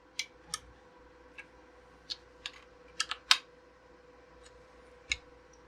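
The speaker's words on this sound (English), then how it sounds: "You can actually hear the click." Small plastic parts snapping into a channel on a PrintShift 3D printer ejector assembly: a scattered series of sharp, light clicks and ticks, a cluster of quicker ones partway through, close up over a faint steady hum, without speech.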